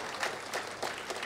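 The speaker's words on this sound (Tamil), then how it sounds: "சும்மா கொஞ்சம் தான் கைதட்டுறீங்க." Light audience clapping at a Tamil comedy speech, a few soft bursts of applause spread across a brief moment, fairly faint and with no voices over it.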